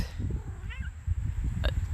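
A cat meows twice, once short and rising and then a brief higher call, faint against a low rumbling background.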